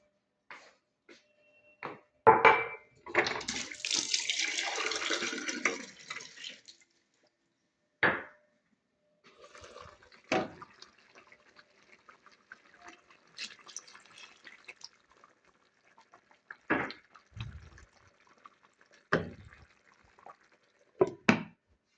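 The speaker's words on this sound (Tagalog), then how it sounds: "dagdagan ko ng tubig" Water pours into a container for a few seconds, followed by scattered clinks, drips and handling noises in an otherwise quiet room.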